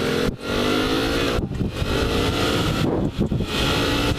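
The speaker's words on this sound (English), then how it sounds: "I'm wide open, and it's struggling." A Yamaha MT-03 motorcycle engine runs at wide open throttle but struggles at low revs, a loud, strained drone mixed with heavy wind rush and a few brief dips.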